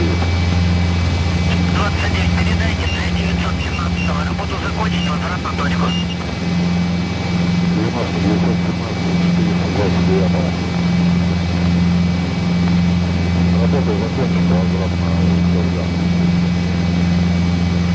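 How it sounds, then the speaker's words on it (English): Russian Mi-8 helicopters landing at a crew recovery site, producing a steady, loud drone of engines and rotor hum that runs unbroken under voices talking. "the Russian Mi-8 helicopters are beginning to land, as is the plan"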